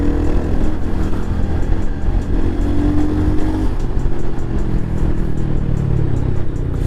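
A Royal Enfield Hunter 350 motorcycle riding on a highway, a loud steady engine drone with road and wind rush, holding a constant pace close up for the whole stretch.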